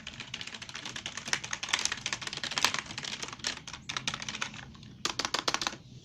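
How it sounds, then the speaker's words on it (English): Quick, uneven clicking keystrokes on a DragonWar Gladiator semi-mechanical gaming keyboard, close up and fairly quiet, with a short pause before a final flurry of taps. "a semi-mechanical keyboard."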